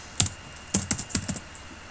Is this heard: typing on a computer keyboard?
yes